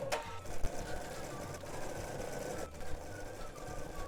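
An embroidery machine stitches placement lines onto plain non-tearaway stabilizer, a fast, steady mechanical whirring and clatter with a few knocks, close and continuous without talk.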